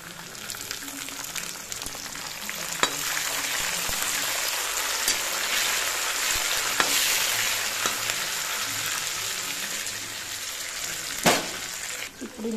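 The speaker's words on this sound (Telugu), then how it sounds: "నేనైతే ఇప్పుడు కరివేపాకు వేసుకుంటున్నాను" Curry leaves sizzling in hot oil for mango pulihora, a dense rain-like crackle that runs steadily throughout with a few sharp pops and clinks, close and moderately loud.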